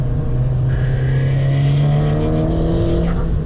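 A Nissan Silvia S15 engine with loose turbo manifold bolts runs loud and close with a heavy, tractor-like rumble and a rising rev in the middle, and no talking.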